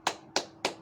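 Three crisp hand claps ring out close and evenly spaced in a children's clapping chant, each one short and bright.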